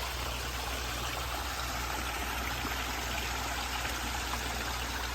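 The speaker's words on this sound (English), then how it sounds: "This is my all-time favorite waterfall." Garden waterfall splashing into a fish pond with water lilies in a private terraced yard, a steady, continuous rush of falling water filling the scene at close range, with a constant low hum underneath and no talking.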